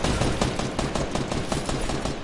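Rapid video game gunfire rattles in dense, loud bursts, with repeated shots overlapping throughout and no voices.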